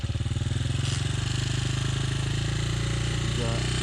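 A motorcycle engine idles at high altitude in the Atacama region with a steady, rapid low chugging pulse, close and loud throughout the short stretch.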